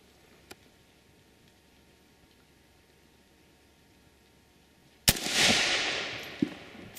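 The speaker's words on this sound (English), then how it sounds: "All right, AK-47. What are you shooting? Shooting the 2-liter bottle out there." An AK-47 rifle fires a single loud shot at a 2-liter bottle outdoors, a sharp crack followed by a long, fading reverberant tail after several seconds of quiet.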